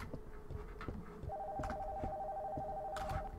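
Telephone ringing inside a house in the horror game Nocturnal Visit, a steady electronic ring tone that starts partway through and holds on over low background rumble and thuds.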